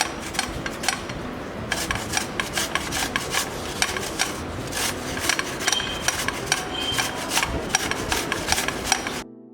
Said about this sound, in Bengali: একেবারে ছোট যে কাটিং ব্লেডগুলো আছে আমি সেটি দিয়ে আলু কুচি করে নিচ্ছি